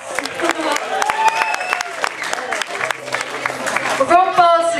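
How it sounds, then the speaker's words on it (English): Scattered audience clapping at the BB Fest live music event, sparse and fairly close, with people talking and calling out over the claps throughout. "big round of applause for Willem for making this such a big success."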